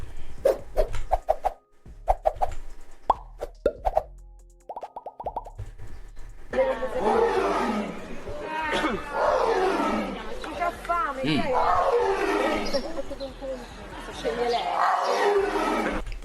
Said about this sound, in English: Is that a roar? That can't be the official roar.